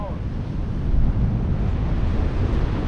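Wind blows hard across the microphone at a seaside bream fishing spot at Port Edward. The roar is loud, low and gusty, with surf-like rumble underneath.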